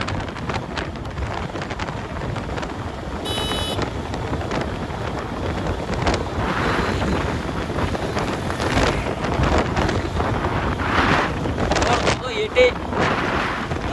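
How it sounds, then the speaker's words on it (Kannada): Strong wind roars into the microphone on an Ola S1 Pro Gen 2 electric scooter during a top-speed run, a continuous, gusting rumble, broken briefly by a short electronic tone and a later click. "ಆದರೆ ಗಾಳಿ ತುಂಬ ಇದೆ"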